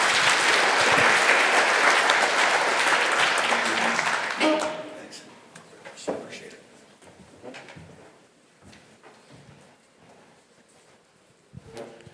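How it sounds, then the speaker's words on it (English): A conference audience gives a sustained round of loud applause that fills the first four seconds, then thins out into scattered claps and a few stray noises through the rest. "So let's give our top 3 distributors one round of applause."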